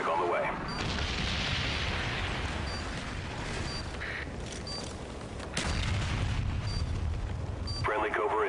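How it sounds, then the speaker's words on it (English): Rolling napalm strike explosions in Call of Duty Black Ops Demolition mode, a long continuous roar of fire and blasts with a sharp burst near the end, loud and dense alongside game noise. "Friendly napalm strike on the way."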